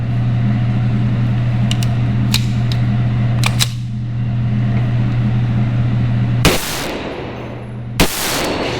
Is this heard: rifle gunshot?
yes